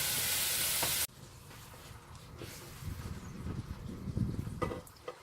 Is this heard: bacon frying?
yes